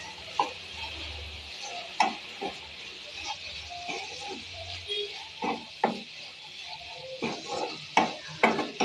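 Squid pieces roasting in a pan with black pepper powder produce a soft ongoing sizzle with repeated stirring scrapes and taps at uneven intervals, close and moderately quiet.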